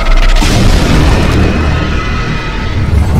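A massive, blazing explosion in a Filipino audio drama booms loudly from the start, a dense rumbling roar that stays strong and slowly rolls on.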